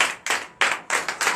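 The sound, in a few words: congregation clapping in acclamation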